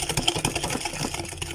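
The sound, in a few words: electric mixer mixing cake batter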